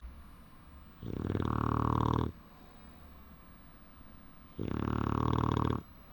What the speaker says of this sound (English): She is over there snoozing loud.